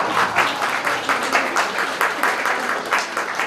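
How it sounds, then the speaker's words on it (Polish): Applause from an audience greeting three women of many talents at a Polish event, a dense, steady patter of many hands clapping with loose rhythmic swells throughout. "brawa, brawa!"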